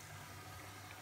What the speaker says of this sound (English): The cycle starts again with the drain